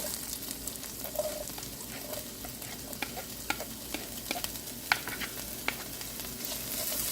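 Onions sautéing with ginger garlic paste in a hot pan for mushroom masala, a steady soft sizzle broken by scraping stirs and occasional spoon clinks, close and alone.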